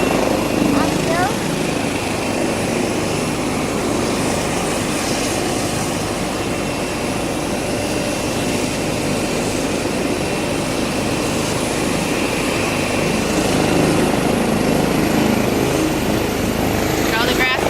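A helicopter taking off in Greenfield, Massachusetts, with a loud, constant roar of engine and rotor wash filling the scene, close and steady throughout, and voices faintly talking beneath it.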